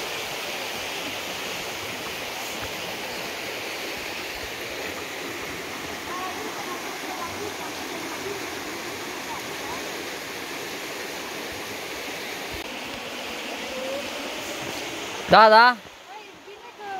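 Water pours and rushes steadily at the Vadul Crișului waterfall near a cave, a broad continuous roar filling the scene, with a brief spoken word and a short burst of sound near the end.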